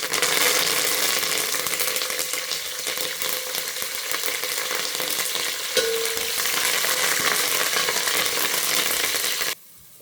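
Peanuts and curry leaves fry in hot oil for poha upma, a steady close crackling sizzle that runs loud and continuous until it cuts off abruptly near the end.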